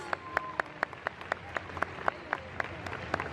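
Scattered, sparse clapping from an audience at a cosplay group contest on stage, individual claps landing in an irregular rhythm of about a dozen sharp hits, moderately distant over a faint room murmur.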